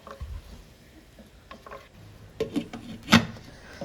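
Chicken fries in oil for a dhaba-style chicken curry, giving a faint crackle at first that builds into sharper bursts of spattering and stirring scrapes, one loud pop near the end, close by with no talking.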